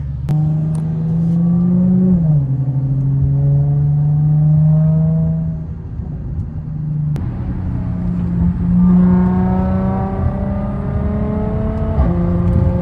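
A supercharged Audi A6 accelerates hard, loud and close, its engine climbing in pitch through two strong pulls with a brief drop between them as it shifts.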